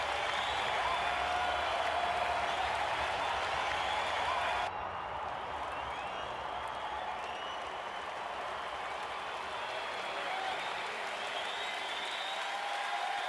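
Crowd applause at a cricket match after a dot ball, a steady broad wash of clapping that carries on throughout and eases slightly partway through.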